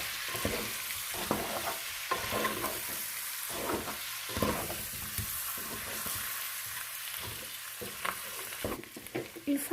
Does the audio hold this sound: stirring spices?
yes